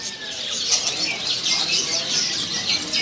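A flock of caged canaries in a bird shop kiosk keeps up a busy, overlapping chorus of chirps and trills, with occasional fluttering and faint voices in the background.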